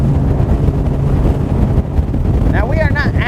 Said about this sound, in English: It seems to be a little bit more windy right here